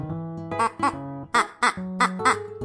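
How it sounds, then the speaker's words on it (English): A duck quacks in a quick series of about six short, nasal quacks, close and clear, with no talking. "Duck."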